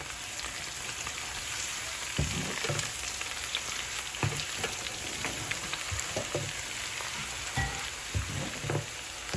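Steady crackling sizzle of spices, garlic and ginger frying in hot oil for a tadka for sarson ka saag, with occasional louder pops and spatters, continuous and close throughout.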